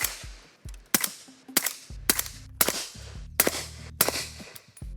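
A rapid series of sharp, loud gunshots from a suppressed 300 Blackout rifle, about eight in quick succession, each a snappy pop with a short echoing tail, no talking.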